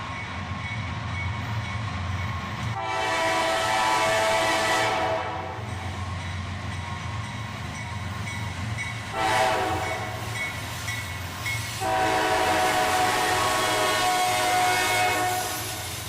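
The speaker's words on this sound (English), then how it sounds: "A southbound CSX manifest train, led by an ES40DC and an ES44 ACH." A southbound CSX manifest freight train led by an ES40DC and an ES44AH locomotive sounds its horn in three long blasts over a steady rumble of rolling cars, loud and close, with no talking.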